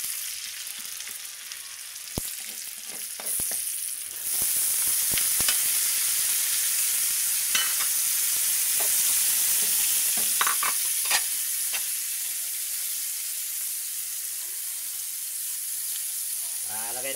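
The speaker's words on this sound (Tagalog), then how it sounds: "Lulog na rin natin yung gulay guys." Vegetables are stir-fried in a pan for pancit bato guisado: loud continuous sizzling with repeated scrapes and clicks of a spatula, easing toward a softer hiss near the end.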